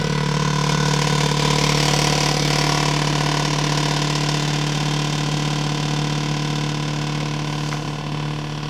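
A cotton candy machine hums and whirs steadily as it spins melted chocolate mint candy. The loud, continuous motor drone holds throughout and carries no talk.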